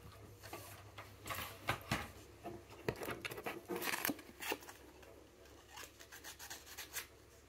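Very coarse sandpaper rubs across wood in a series of quiet, irregular rasping strokes, close by and fairly soft, with short pauses between them.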